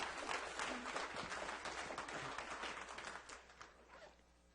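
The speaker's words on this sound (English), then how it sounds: "Please hold your applause." Applause from attendees at a city council meeting, a dense wash of clapping that starts fairly loud and gradually thins and fades over several seconds.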